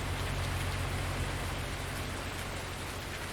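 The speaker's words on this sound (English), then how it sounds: "It's alright, it's raining." Steady, even rainfall in the farming video game Farming Simulator 19, a soft continuous hiss of drops on surfaces with a low droning hum beneath, no voices.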